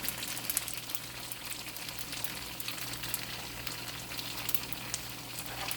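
Turkey egg rolls frying in hot oil at about 350 degrees in a pan, a dense continuous crackling sizzle with scattered sharp pops, steady and close with no talking.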